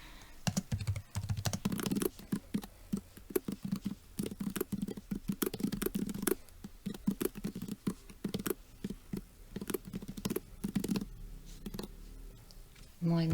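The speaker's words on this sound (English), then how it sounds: "So let's type in" Fast, steady clacking of keys on a computer keyboard as a message is typed, close and moderately loud, with brief pauses between bursts and some talk near the end.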